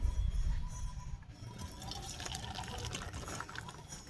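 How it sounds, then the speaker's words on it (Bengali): Curdled milk chhana, split with lime juice, is poured into a strainer, giving a close, steady wet splashing and trickling of whey that runs for several seconds without talk. "একটা ছাঁকনিতে আমি এটা ঢেলে নিচ্ছি"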